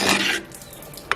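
A cooking pot lid lifted off after the stove is switched off, a brief metallic scrape and rattle followed by a faint tap, close and alone.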